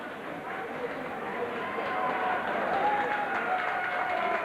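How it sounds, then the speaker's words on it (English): Stadium crowd at a 1996 France v Wales rugby league match in Carcassonne applauds a player, a broad distant wash of clapping and crowd noise running beneath a commentator's voice. "Cabestany getting a round of applause from this Carcassonne crowd"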